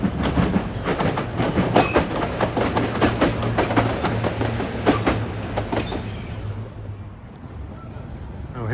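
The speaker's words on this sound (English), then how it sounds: "here comes an inbound express train from Pearson Airport to Union Station" An inbound UP Express airport train heading toward Union Station rolls past at close range, with a loud, continuous rumble, rhythmic clickety-clack of wheels over rail joints and some squeal, easing off toward the end.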